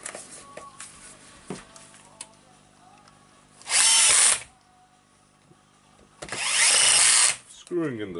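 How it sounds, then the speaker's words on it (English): Screws being driven into the back cover of a Makita HR2300/HR2610 rotary hammer drill with a power drill, two loud whirring bursts separated by quieter handling clicks and rattles, close by. "Screwing in the screws"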